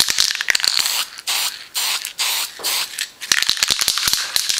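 Dupli-Color spray paint hisses onto a shroud in a series of short bursts, several quick sprays with brief gaps and small clicks and rattles between them, close and fairly quiet.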